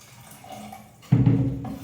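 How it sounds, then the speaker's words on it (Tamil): Quiet background, then a sudden steady pour of water into rava idli batter starting partway through and continuing loudly to the end. "கொஞ்சமாக நான் தண்ணி விட்டுட்டு"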